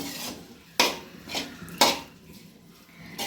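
A spoon scrapes and knocks in a pan while boiled cauliflower is stirred into masala, making two sharp metallic clinks amid softer rhythmic scraping strokes, close up and without talk.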